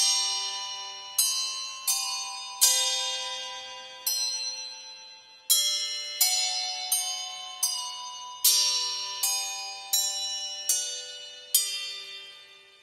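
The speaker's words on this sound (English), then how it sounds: "Here we have the handbells played using a knitting needle, so an even more metallic sound than the last." Handbells from the LABS Bell Swarm sample instrument, struck with a knitting needle, give bright metallic dings, single and in quick pairs, each ringing out and decaying before the next, about a dozen strikes in an irregular rhythm.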